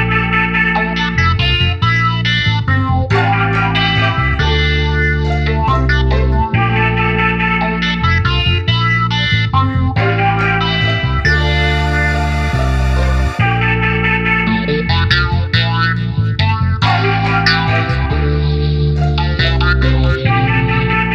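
A finished 1970s-style soul sample plays loud and continuous, layering vocals, pizzicato strings and trills over a full, dense arrangement with steady rhythm throughout.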